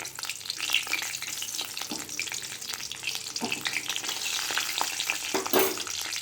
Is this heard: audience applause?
no